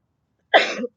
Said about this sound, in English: I'm sneezing a lot.